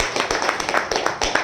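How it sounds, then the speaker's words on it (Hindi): An audience at a product testimony gathering in Jharkhand breaks into brief applause, a dense patter of many hands clapping together, close and fairly loud. "मैं चाहूंगा इस पर उसके लिए जोरदार ताली और बच्ची के लिए।"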